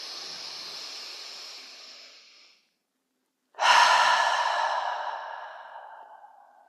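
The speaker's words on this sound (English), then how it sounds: "take a deep breath in. Sigh it out." A long, airy inhale fades into a pause, then a loud sighing exhale starts abruptly and slowly tapers away, part of calm meditation breathing, close and with no talking.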